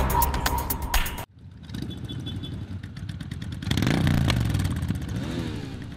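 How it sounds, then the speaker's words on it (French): A group of motorcycles on a 90 km club ride through the Flanders countryside, engines revving and passing loudly and close, with a brief near-silent cut before the rumble returns. "les motards de la région se retrouvent pour une balade de 90 km en Flandre"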